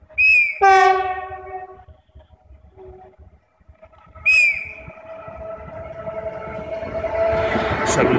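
A departing mountain train toward La Tor de Querol sounds two loud horn blasts as a driver's greeting, several seconds apart, followed by the swelling rumble and screech of the train pulling away nearby.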